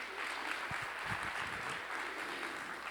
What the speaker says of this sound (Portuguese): Palmas para esse empreendimento também.